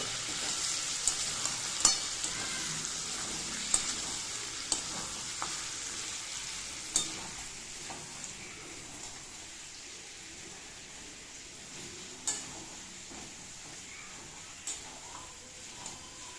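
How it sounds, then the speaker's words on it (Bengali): Mutton kosha with tomatoes is stirred and fried in a pan on low heat. A soft, steady sizzle carries throughout, punctuated by sharp scraping clicks from regular stirring. "লো হিটে কষে নিচ্ছি মাংসটাকে"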